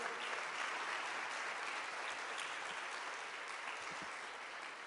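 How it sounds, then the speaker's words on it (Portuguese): A church congregation applauding together in a steady, dense wash of clapping that holds evenly throughout and fades slightly near the end, with no voices standing out. "Dê mais uma salva de palmas ao Senhor"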